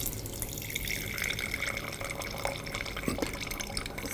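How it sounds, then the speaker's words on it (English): Wine trickles from a fine spout on an argon-pressurised preservation device, a soft continuous liquid stream with faint drips, quiet and close. "that forces wine up this fine hypodermic thing and back out this little spout"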